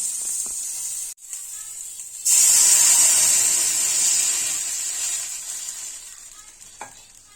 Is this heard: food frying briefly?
yes